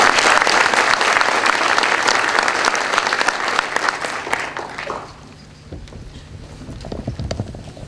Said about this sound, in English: Now let's give all of the graduates a round of applause.